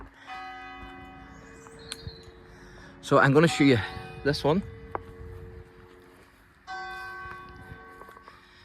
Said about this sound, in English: Oh, there's the bell.